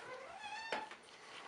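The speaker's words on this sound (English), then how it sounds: "Annoying other little kitty who wants water from the sink." A cat gives one clear, drawn-out meow close by in a quiet room, asking for water from the bathroom sink.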